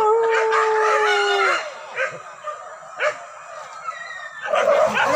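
Hunting dogs on a wild boar hunt in Solok, West Sumatra let out a drawn howl, then scattered yips and whimpers, with a burst of rougher barking and noise at the end, heard outdoors at moderate distance.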